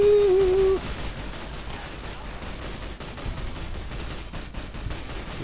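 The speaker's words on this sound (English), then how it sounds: "We're shooting." Gunfire in Fallout: New Vegas, a rapid string of shots and crackling bursts heard at moderate level after a brief opening tone, going on steadily with no talk.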